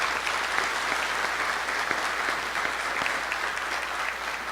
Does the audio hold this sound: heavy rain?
no